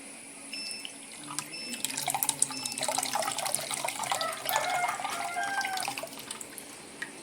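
Squeezed tamarind extract pours steadily into a cooking pot for rasam, a continuous close splashing trickle of liquid lasting several seconds.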